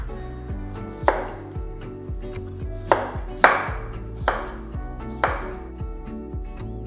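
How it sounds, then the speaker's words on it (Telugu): Raw green banana (aratikaya) being sliced with a knife on a board in a home kitchen, with roughly ten crisp, evenly paced cuts, several sharper and louder, close up with no talking. "ఆ తర్వాత ఇలా స్లైసెస్గా కట్ చేయాలి"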